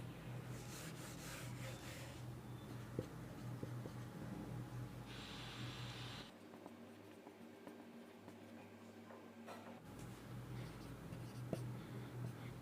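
Pen scratching out notes during a Hindi-language lesson on the digestive system and digestive glands, a steady close writing scrape that runs throughout with a quieter stretch in the middle and no talk.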